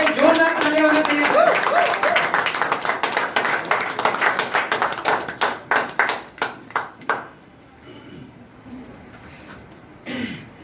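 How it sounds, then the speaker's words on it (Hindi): An audience at a lecture event breaks into loud applause. The dense clapping thins into scattered individual claps and then fades out. Some faint voices follow. "जोरदार तालियां होनी चाहिए।"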